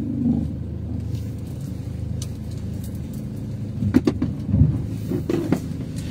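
A small car drives past on a road, a steady low engine rumble with a few light knocks and clatters near the end, heard from close by with no talk.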